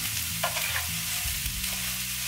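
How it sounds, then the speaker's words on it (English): Onion browns in a pan for fideo, frying with a steady close sizzle while a utensil scrapes and stirs through it in short repeated strokes, and nobody speaks. "I'm just going to keep stirring this and browning"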